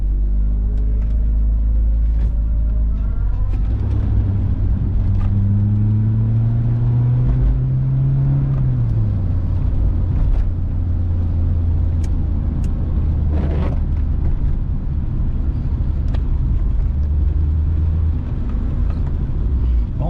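An old car being driven, its engine rumbling loudly from close by, with a rising and falling rev tone early on, then a steady low drone with scattered clunks and rattles.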